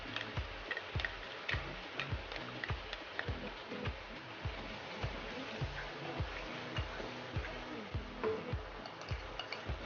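Yogurt, about 200 grams, is whisked in a bowl, producing rhythmic soft ticking strokes that repeat quickly and steadily throughout.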